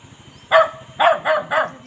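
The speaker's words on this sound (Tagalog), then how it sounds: "May aso. Tumatahol mga idol." A dog barks four times close by, one sharp bark followed after a pause by three quick barks in a row, over a quiet background.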